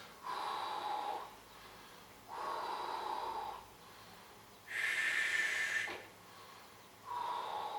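A child takes slow, deep breaths while holding a Pilates stretch, with four long, steady breathing sounds evenly spaced and close by; no one talks.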